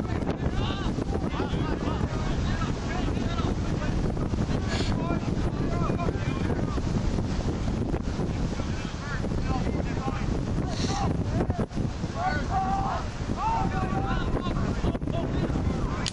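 Strong wind roaring across the microphone during a sailing race, a steady loud buffeting rush with the boat moving through water and people talking over it.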